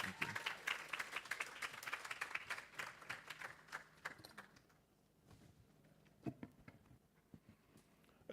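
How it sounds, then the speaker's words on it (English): Conference audience at a global health research symposium in Accra applauds, a dense round of clapping that fades after several seconds into scattered, faint claps. "Can you please welcome him with a round of applause?"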